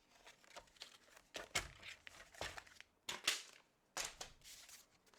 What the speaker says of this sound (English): I'm going to cut down to that score line